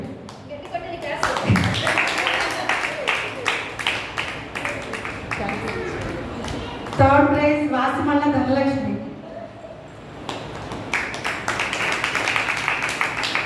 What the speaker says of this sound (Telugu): గట్టిగా చప్పట్లో పడుతుంది.